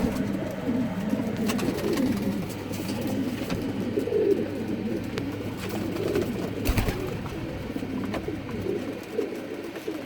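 Pigeons coo in repeated low, throaty phrases close by, with scattered light rustles and taps in the background and no talking.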